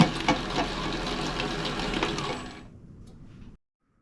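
A tilt-head stand mixer churns pizza dough with a steady motor whir and rhythmic thumping, close and loud, before it winds down and cuts off to silence.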